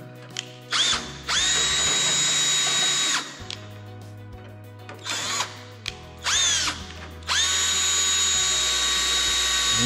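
A power drill whirs in several bursts of a few seconds each with short pauses between, the motor spinning up and winding down each time, close and loud, while fitting RV-8 aircraft wingtips.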